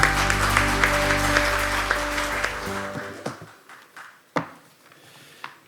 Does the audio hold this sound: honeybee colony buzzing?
no